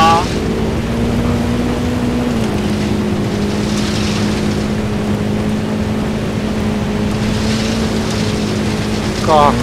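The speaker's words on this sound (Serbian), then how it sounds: "Kako dobra kroserica, jebate. Ovo je uživancija voditi" Dirt bike engine in Ghost Recon Wildlands, a loud steady droning hum that drops slightly in pitch early on, with gusty wind noise over it.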